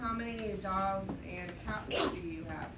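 A single sharp sneeze bursts out in a math classroom near the end, surrounded by a teacher talking to a room of students.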